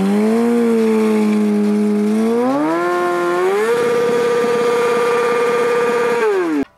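A motorcycle engine revs during a reverse stunt. A loud, close, steady drone climbs in pitch twice, holds high, then drops and cuts off abruptly.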